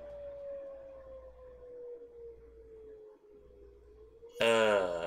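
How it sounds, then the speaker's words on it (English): A long, steady civil defense siren wails outdoors in the distance in the game Granblue Fantasy Relink, slowly sinking in pitch, until a loud voice abruptly cuts in at the end. "Apparently the sirens went off."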